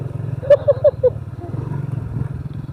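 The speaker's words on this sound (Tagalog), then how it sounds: "Meron nga dirty bike." A dirt bike engine idles and runs with a steady low drone throughout, joined by a few brief higher tonal blips near the start, recorded close on a trail ride.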